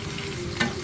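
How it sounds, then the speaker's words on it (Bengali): Onions and green chillies frying in hot oil give a dense, close sizzle with faint stirring, ending in a short, slightly louder crackle. "পেঁয়াজ আর কাঁচামরিচ দিচ্ছি, একটু ভেজে নেব।"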